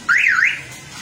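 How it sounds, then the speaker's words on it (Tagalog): A van's car alarm gives a single short warbling warning chirp, loud and close, then fades to a low background hum. "warning alarm"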